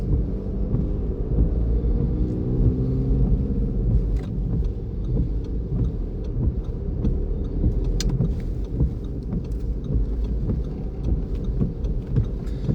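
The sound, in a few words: car driving in third gear during a driving lesson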